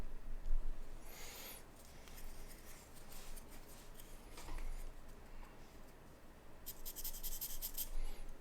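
Soft scratching and stroking of chalk and charcoal on paper while a portrait is sketched, faint and close with a steady texture and a few brief sharper scrapes, no talking.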